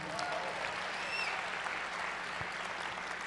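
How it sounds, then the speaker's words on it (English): Keynote audience at SXSW applauding for the sign language interpreter, a steady dense wash of many hands clapping throughout, loud and continuous with no pauses. "a round of applause, please."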